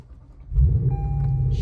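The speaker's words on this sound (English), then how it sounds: "Start it, cold start." A Lexus RC F engine cold-starts with a quick crank and then catches into a deep, loud idle rumble, up close.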